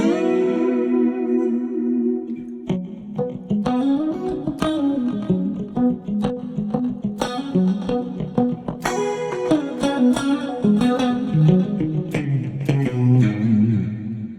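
Electric guitar through a Fractal Audio FM9 floor modeler on an 80s-style clean scene, chiming chords and picked lines with chorus, echo and reverb, close and sustained throughout.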